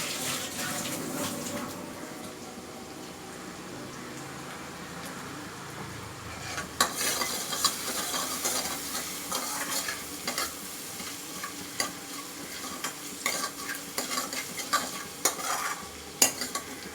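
Onions sautéing in a pan for a mixed greens egg dosa, with a steady close sizzle and scraping stir strokes that grow sharper and more frequent partway through.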